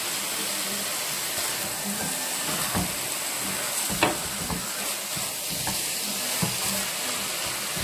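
Ground meat sizzles steadily over onions in a hot pan. The hiss and crackle is continuous and close, broken by occasional scrapes as the mixture is stirred.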